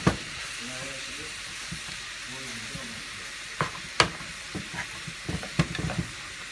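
Raw meat pieces for goulash sizzle steadily in a hot pan while being stirred and broken apart, with a spoon or spatula scraping and clacking in loud bursts toward the end; no voices.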